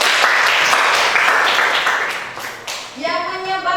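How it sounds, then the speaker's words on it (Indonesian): Classroom applause for a fellow student, a dense spread of clapping from many pupils that fades toward the end as a tonal, chirpy sound rises over it. "Tepuk tangan dulu buat temannya."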